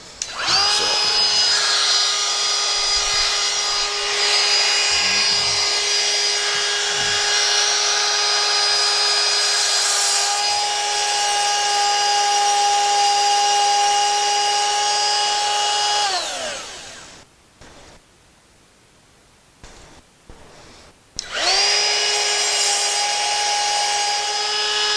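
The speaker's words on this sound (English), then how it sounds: "I'm going to use my trim router" A trim router cuts Kaizen foam with a loud, steady high-pitched whine held for about sixteen seconds, then spins down. A quiet gap with small handling sounds follows before the motor starts again.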